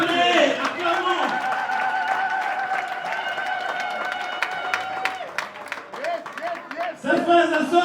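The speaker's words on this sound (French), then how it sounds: "Acclamons pour eux" A church congregation at a graduation service claps and cheers for its graduates, a sustained crowd of applause with voices and music mixed in, fading then swelling again toward the end.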